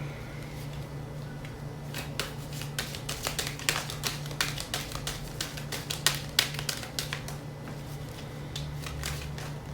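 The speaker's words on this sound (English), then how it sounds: "I'm gonna shuffle this way." Steady crisp riffling and tapping of tarot cards being shuffled, continuous rapid clicks over a low constant hum, no talking.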